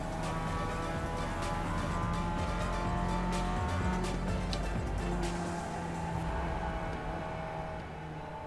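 Racing simulator car rolling off throttle and coasting on a nine-turn track, a steady loud engine and tyre drone with faint tonal whine, fading slightly toward the end.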